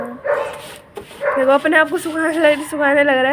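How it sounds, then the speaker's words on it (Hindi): Dogs barking in a street, a few clear barks and yips close by, with a person talking over them. "कुत्ते देखो कैसे भौंक रहे हैं गली में।"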